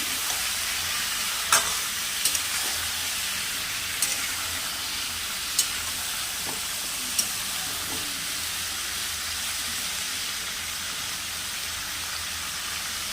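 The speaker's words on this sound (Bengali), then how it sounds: "এঁচোড়টা ঢেলে দেবো বন্ধুরা আলুগুলোর সঙ্গে এঁচোড়টাও একটুখানি ছাতলানো হবে" Steady sizzling of jackfruit and potatoes sautéing in a pan, with a few sharp clicks of a utensil stirring now and then; no voices.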